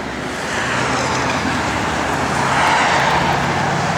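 A 1969 Chevrolet Chevelle convertible with dual exhaust runs steadily, a continuous low, even engine rumble with a slight swell partway through and no talking.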